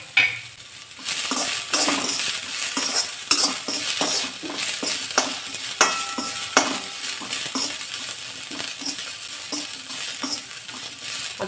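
Onion and white sesame seeds frying in a pan, a loud continuous sizzle and crackle with repeated scraping strokes of a spoon against the metal throughout, no voices.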